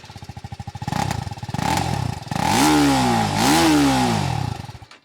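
A Bajaj Pulsar NS400Z or TVS Apache RTR 310 motorcycle engine and exhaust thump rhythmically at idle, then rise through two loud, close revs before dropping back and cutting off at the end.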